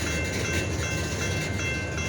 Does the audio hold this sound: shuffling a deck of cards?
no